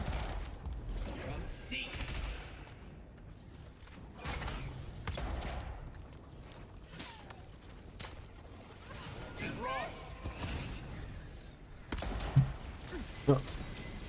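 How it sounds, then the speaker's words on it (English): Pistol gunfire in the video game Avowed, a few sharp shots scattered through busy combat noise, with two louder cracks near the end and talking running alongside. "that's just my pistol"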